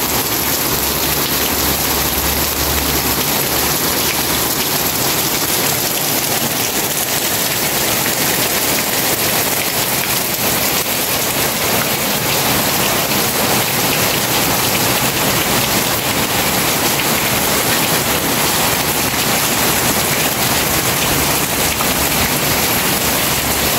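Heavy rain pours steadily and loudly as a dense, unbroken hiss of drops on surfaces, with no letup and no voices.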